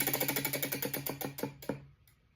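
A prize wheel spins with a rapid run of sharp ticks that gradually slow and spread apart, then stop, close and fairly loud with no voices.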